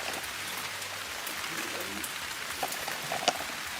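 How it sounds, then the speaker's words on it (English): Heavy rain falls steadily in a garden near Venice, a close, even hiss with scattered drops tapping on nearby surfaces, fairly quiet and continuous throughout. "it's raining like crazy still"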